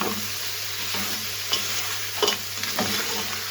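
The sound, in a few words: stirring tomatoes frying in karahi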